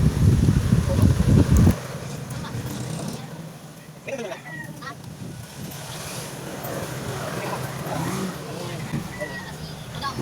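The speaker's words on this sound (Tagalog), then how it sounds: "Ang lakas ng hangin niya." Strong wind blows outdoors at a grilling spot as rain threatens, with a loud rumbling gust buffeting the microphone at first, then steady whooshing and rustling under a voice.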